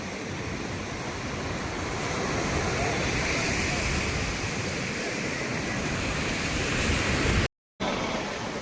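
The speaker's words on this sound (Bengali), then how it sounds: "সকালের সমুদ্র।" Morning sea waves washing onto the beach at Puri, a continuous broad roar of surf close by, steady throughout with a brief dropout near the end.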